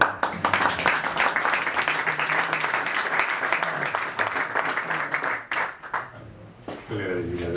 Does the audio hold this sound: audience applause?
yes